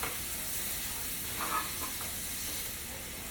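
Flank steak sizzles in a hot pan, a soft, steady hiss with faint crackles and a slight swell midway, fairly quiet and continuous with no voices.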